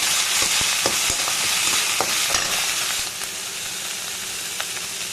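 Vegetables for veg Maggi frying in a pan, a loud steady sizzle with scattered clicks of stirring and a drop in intensity partway through, no talking.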